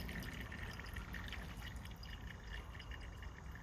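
Dirty water mixed with dirt poured through a limestone filtering model, a steady faint trickle and splash, continuous and alone.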